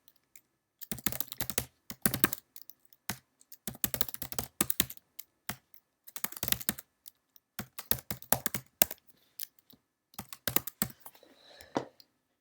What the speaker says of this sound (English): So that's where I'm going to type in the full path